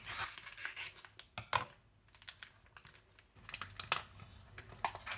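Scissors snip open a plastic food package bought from the refrigerated section, producing a series of close, crisp cuts and crinkling rustles with short pauses in between.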